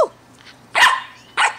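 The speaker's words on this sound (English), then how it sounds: "Don't bark. Don't bark." A small dog barks sharply indoors, two or three loud, close yaps spaced about half a second apart, with a short whine at the start.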